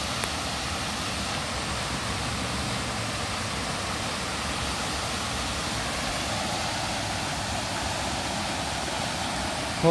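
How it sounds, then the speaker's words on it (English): A small waterfall on a flooded creek pours with a constant dense rush of water, close and unbroken throughout. "I really love the sound of the water from this little waterfall area here"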